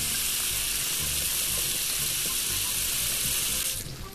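Water pours into a pot in a cooking simulator video game, a continuous loud rushing stream with a faint sizzle beneath, then the flow fades at the end.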